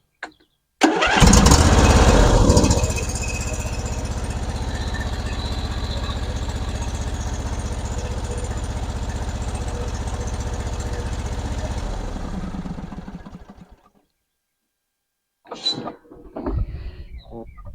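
A John Deere lawn mower's small engine catches after a short start and runs loud and steady for about eleven seconds, then winds down and stops; after a pause, faint clattering follows.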